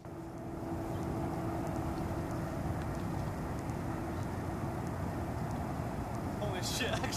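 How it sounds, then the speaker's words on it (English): A heavy, continuous rumble of a train rolling past nearby, steady and loud throughout, with a brief higher screech near the end. "There's a train coming."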